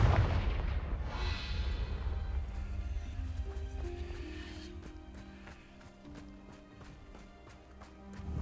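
Confringo blasting spell going off in Hogwarts Legacy, a loud opening burst followed by rumbling, crackling impacts and a layer of game music underneath that slowly fades.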